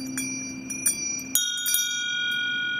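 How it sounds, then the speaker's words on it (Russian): Small bells, two of them, chime in a few bright strikes, with a clearer ring partway through whose tones hang and decay, played near and alone with no talk. "двух колоколов звон."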